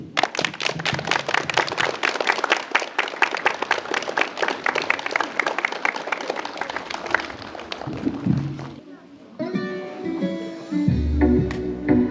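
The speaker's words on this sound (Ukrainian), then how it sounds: "Ці оплески сьогодні лунають на вашу честь" Applause for teachers at a first-bell school ceremony in a Ukrainian gymnasium, rhythmic crowd clapping for about eight seconds, then fading as music begins playing.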